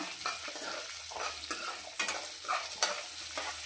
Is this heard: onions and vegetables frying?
yes